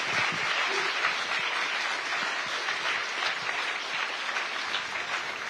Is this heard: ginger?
no